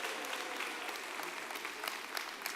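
Audience applause at an awards gala, steady dense clapping filling the whole stretch with no speech over it.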